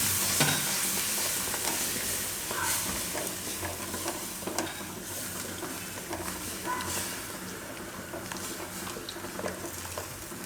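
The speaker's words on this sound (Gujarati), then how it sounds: "હવે આપણે આ દહીં જે મસાલાવાળું છે એ દહીં આમાં નાખી દેવું બધું ને હલાવતું રહેવાનું એકદમ." Spiced yogurt is stirred into a chickpea curry in a pan over a low flame, giving a continuous close sizzle with soft scraping and spoon taps throughout.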